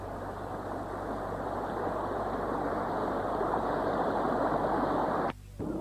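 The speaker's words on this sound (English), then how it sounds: "Near our camping, we're just near our tent to the brook that we've been swimming in every morning so far. Here's the sounds of it." A brook near a campsite in the Scottish Highlands flows in a continuous, steady broadband rush, close and fairly loud. It cuts off abruptly near the end, with no talking.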